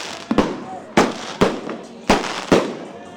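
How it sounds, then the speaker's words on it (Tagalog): Sharp firecracker and firework bursts during New Year celebrations, about six loud cracking pops in irregular pairs, each with a brief crackling tail, heard without talk. "Panandalian man ang pailaw at paingay ng mga paputok sa pagsalubong sa bagong taon"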